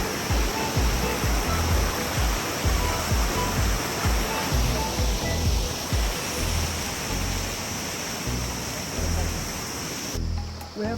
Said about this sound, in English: Jordan River of Shimla. Shimla stream.